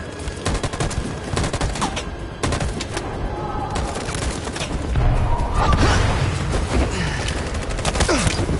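Sustained volleys of massed gunfire in the video game Detroit, fired on command, loud and continuous with overlapping shots and a rolling background roar throughout.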